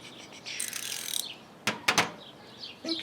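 A ratcheting wrench under a lubrication test gives off a fast run of fine clicks, followed by a few sharper separate clicks. The sounds are close and fairly quiet, with no talking.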